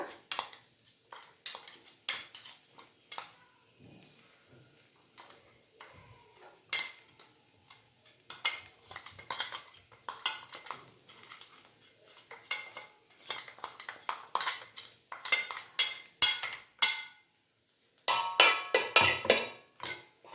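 A metal utensil scrapes and clinks against a pot while a coarsely ground mixture is tipped onto poha for chitranna, giving repeated close knocks and scrapes in irregular bursts, louder toward the end.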